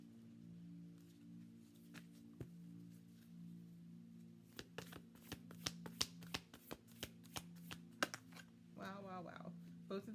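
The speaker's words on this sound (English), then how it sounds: "going to split the deck here" A tarot card deck split and riffle-shuffled up close, starting with quiet handling and soft taps, then a run of sharp, rapid card flicks and snaps, with a brief fluttering riffle near the end.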